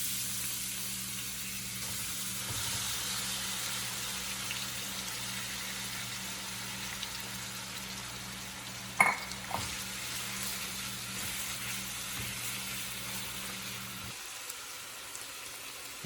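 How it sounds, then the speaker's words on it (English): Wild hog with lemongrass stir frying in a pan, a steady soft sizzle running the whole way, joined by a brief clatter near the middle. "now we're gonna fry, or we're gonna stir fry all of this up"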